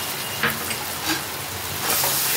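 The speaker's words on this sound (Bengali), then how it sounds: "ভালো করে মশলাটা আমি কষিয়ে নেব।" A spiced paste of cashew paste, poppy seed paste and green chilli sizzles steadily in a pan as it is stirred and fried, with a continuous hiss marked by a few brief louder spits.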